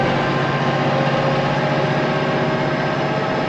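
A farm tractor engine runs steadily at close range, a loud, constant drone with an even low rumble and no pauses.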